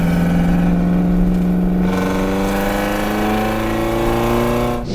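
An Alfa Romeo GTV hot rod engine hums steadily while driving, a close, sustained mid-pitched drone with a slight change in tone partway through and a brief rise near the end.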